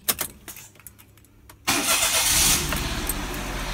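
A car engine cranks briefly and catches after a new battery has been fitted, then settles into a loud, steady close idle with no talking.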